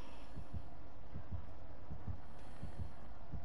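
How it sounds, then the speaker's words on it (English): The killer's heartbeat from the video game Dead by Daylight, a steady low double-thump pulse repeating about twice a second over a humming game background, with no talk. "Oh, I think that's the killer's heartbeat."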